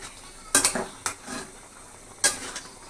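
Spiced desi chicken is stirred and browned in a pan for kosha, with three or four sharp metallic scrapes and knocks of the spoon over a faint, low sizzle, no voices.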